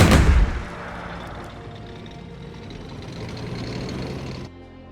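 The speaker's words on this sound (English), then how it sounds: "Artillery is the basis of the firepower of your forces." Artillery fire in the Strategic Mind: Spectre of Communism strategy game: one heavy boom at the start, then a long rumbling roll of distant explosions and crackle that cuts off abruptly near the end.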